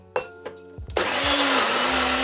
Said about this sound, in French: On va mixer ça et on va voir ce que ça donne.